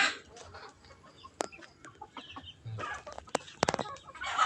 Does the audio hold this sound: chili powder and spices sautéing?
no